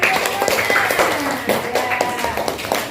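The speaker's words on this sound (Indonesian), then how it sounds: "tepuk tangan" A group claps together during a lesson in an Indonesian classroom. The clapping is brief, busy and fairly close, with voices chattering over it.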